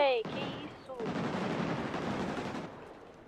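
Rapid bursts of gunfire in the GTA RP video game, dense and continuous for a couple of seconds amid a street protest scene, with a voice speaking briefly at the start.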